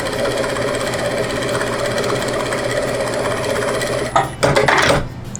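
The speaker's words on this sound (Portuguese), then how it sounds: "Costuro de um lado, venho e costuro do outro lado." A sewing machine stitching patchwork fabric runs loud and close in a steady rapid mechanical chatter, then stops near the end with a few handling knocks and rustles.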